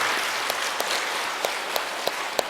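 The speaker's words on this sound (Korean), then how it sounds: "우리 주일학교 선생님들에게 감사와 격려의 박수 한번" A church congregation at a Catholic Sunday Mass applauds its Sunday school teachers with steady, even clapping from a full room, a few sharper claps standing out at intervals.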